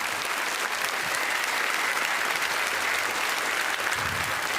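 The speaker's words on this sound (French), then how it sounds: "Je vous demande de l'applaudir" A studio audience in Mulhouse applauds a guest on a French television show, a steady, dense roar of many hands clapping that holds evenly throughout, no voices on top.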